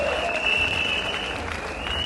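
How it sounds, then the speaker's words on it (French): An audience at a PCT party federation gathering in Nkeni-Alima applauds for party builders with dense, steady clapping that fills the whole moment at a fairly loud level. "Nous vous demandons très respectueusement d'applaudir pour ces camarades bâtisseurs, pour leur sacrifice très apprécié par nos militants."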